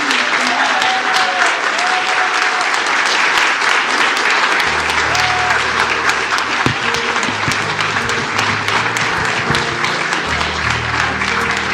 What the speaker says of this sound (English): So let's give our chaplains a round of applause.